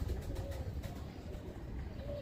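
Roller pigeons, a competition breed, coo softly in a few low, throaty phrases against steady background noise, with no one speaking.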